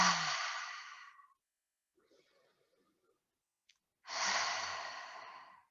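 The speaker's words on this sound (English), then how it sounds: "take those few deep, energizing breaths, breathing in through the nose and breathing out through the mouth" Two deep breaths in a seated fitness session: a long audible exhale, a quiet pause with faint shuffling, then another strong airy breath, close to the microphone, no talking.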